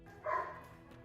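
One short, faint dog bark rings out in a home with pet puppies, followed by quiet room tone.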